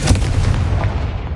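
A Confringo blasting spell explodes in the Hogwarts Legacy video game, a loud, dense burst with a heavy low rumble that rolls on steadily for over a second, standing alone without talk.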